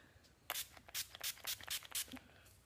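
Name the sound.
makeup setting spray being sprayed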